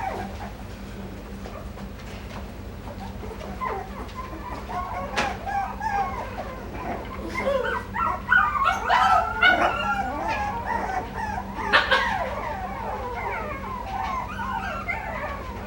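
Coton de Tulear puppies yipping, whimpering and giving small howls and barks, a scattered string of high, thin cries that grows busier toward the middle, heard close up and without talk.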